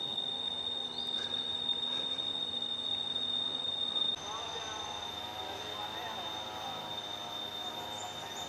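Cicadas buzz steadily in a tropical forest in Penang, a continuous high drone that carries through the whole stretch, layered over a low, distant rumble of engines.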